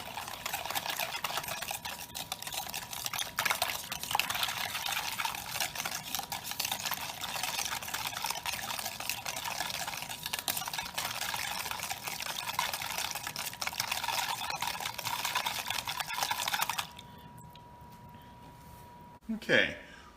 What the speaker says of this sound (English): Let's go ahead and mix that together.